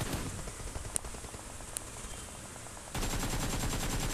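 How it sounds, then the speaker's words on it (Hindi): Sustained AKM rifle spray in a battle-royale video game scrim, a rapid continuous rattle of automatic gunfire that grows louder and denser in the last second. "एकेएम स्प्रे मारते हुए बट कनेक्ट नहीं हुई गोलियां।"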